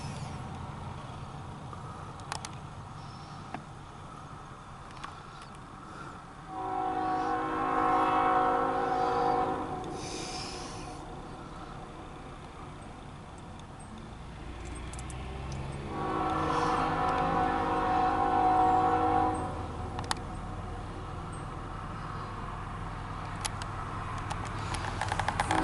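A Norfolk Southern 23M intermodal train led by two locomotives rumbles past with long, loud horn blasts sounding twice, the engines' drone rising and fading as the cars roll by.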